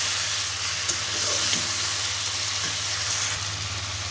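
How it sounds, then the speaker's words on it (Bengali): A large fried snakehead fish being stirred in a pan gives a soft, even sizzle with a few faint spatula taps and a low steady hum behind it. "বড় সাইজের একটা শোল মাছ আমি ভেজে রাখছিলাম, মাছটা দিয়ে এখন সুন্দর করে একটু নেড়ে নিব"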